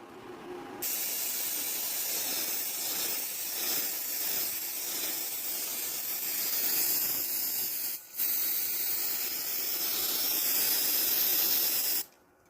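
A spray can sprays paint onto a DIY fashion piece in long continuous hissing bursts, one brief break midway and a stop at the end, fairly quiet and close, with no talking.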